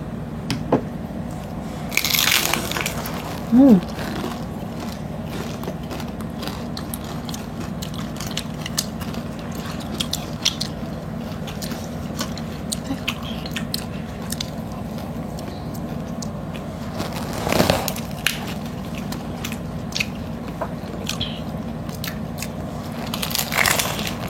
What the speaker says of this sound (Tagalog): Unang subo tayo. Ito. Chicken skin.